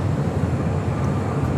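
A Lynx Air jet in Norwegian livery taxis at LAX toward runway 24 left for departure, a steady loud low engine rumble heard alone with no voices.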